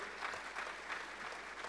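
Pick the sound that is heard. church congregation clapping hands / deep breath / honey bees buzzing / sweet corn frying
church congregation clapping hands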